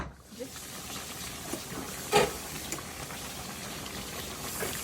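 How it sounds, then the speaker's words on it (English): Soft steady hissing and bubbling of Nigerian vegetable soup boiling in a pot, quiet and continuous with a few faint clinks. "So guys, it's like boiling."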